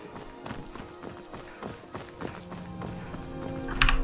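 A horse galloping in the video game Skyrim, steady rhythmic hoofbeats of moderate loudness with a faint game background and a brief chime near the end.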